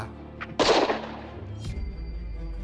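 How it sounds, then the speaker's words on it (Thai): A single sharp gunshot cracks out at night in a Cambodian forest, followed by a rolling echo that fades away across open woodland. "เสียงปืนก็ลั่นก้องป่า"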